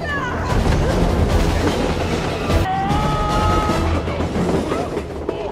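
A train rolls along under a steady loud rumble of wheels on rails, with high screeching tones from braking as it nears a station; some voices talk faintly over the noise.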